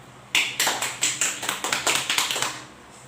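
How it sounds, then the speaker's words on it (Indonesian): A classroom group gives a short burst of applause for a classmate, quick uneven claps starting sharply and fading over about three seconds, with no talking. "Kita berikan aplaus pada teman kita Bella Lassi."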